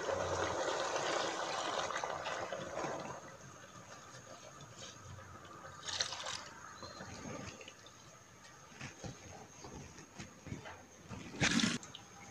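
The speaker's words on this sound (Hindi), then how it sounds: "अब साथ ही इसमें पानी ऐड करेंगे।" Water is poured into rice in a pot for vegetable pulao, a rushing splash for the first few seconds that fades to faint trickles and light clinks.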